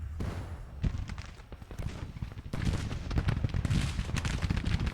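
Artillery booms and gunfire in a Civil War video game, a dense, rumbling barrage of overlapping low blasts and rattling shots that swells louder partway through, with no speech.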